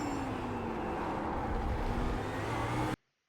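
An Audi R8 LMS GT3 engine in the iRacing game downshifts hard into first gear, giving a loud, continuous engine roar with falling pitch that cuts off abruptly near the end.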